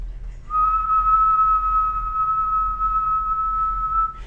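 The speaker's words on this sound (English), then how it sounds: "But if I whistle" A person whistles one steady, pure note, held for about four seconds against a low background hum.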